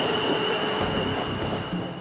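A train rumbles steadily past on a railway line, its wheels squealing, with a sustained metallic whine over low rolling noise and no talk.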